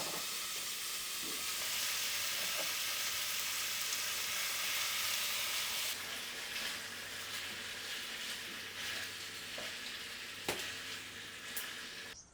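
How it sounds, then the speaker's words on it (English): Meat sizzles steadily in vegetable oil in a frying pan on a wood-burning stove, a loud continuous crackling hiss with occasional sharper pops, no voices. "I put a frying pan on the stove, add vegetable oil, and put the meat in to fry and stew a little."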